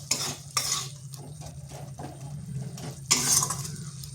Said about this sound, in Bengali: এরপর মশলাটা ভালো করে কষে নিতে হবে